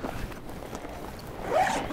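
A zipper is pulled open on a snowmobile tunnel bag, a quick close rasping zip that rises toward the end.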